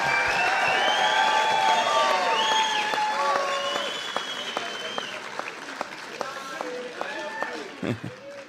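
A graduation ceremony audience claps loudly and steadily with scattered cheers, the dense applause gradually thinning toward the end, with voices mixed in.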